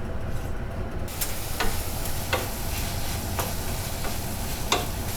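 Garlic, onions and tomatoes sizzle steadily in oil in a pan, a close, constant frying hiss broken by a few soft ticks of a utensil against the pan.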